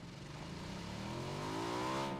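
A car engine revs in the PUBG battle royale shooter, rising steadily in pitch and growing slightly louder over about two seconds, with no talking.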